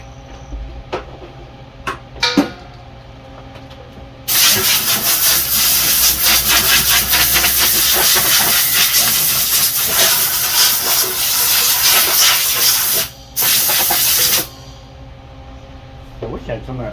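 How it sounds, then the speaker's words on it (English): A pneumatic air gun works on a Troy-Bilt Heatwave snowblower during a belt repair, giving a loud, sustained hissing burst of about nine seconds with a brief gap near the end, after a few faint clicks. "Got that back on with my air gun"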